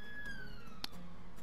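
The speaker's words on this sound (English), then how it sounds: "Excuse the police car." A police car siren passes outside, a faint steady wail heard through a room with a slowly falling pitch and a short sharp click partway through.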